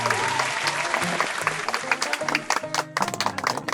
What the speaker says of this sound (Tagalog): palakpakan naman po